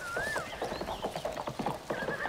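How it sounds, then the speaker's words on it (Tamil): A horse whinnies, a rising and falling neigh, over a run of clip-clopping hooves, close and clear with no speech. "குதிரை சத்தம் கேக்குது இல்ல?"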